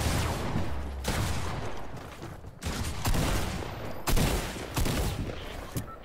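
Rapid video game gunfire from a shooter match, with dense bursts and volleys crackling through most of the stretch, loud and close, with sharper shots standing out near the end.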